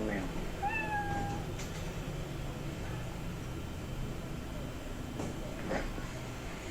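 A black cat gives a couple of short, rising meows early on, faint against a steady hiss of background noise.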